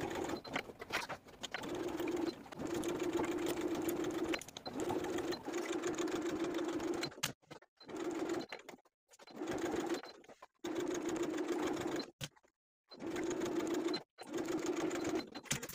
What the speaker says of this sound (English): I'm going to take it to the sewing machine and sew the facing all around the top of the garment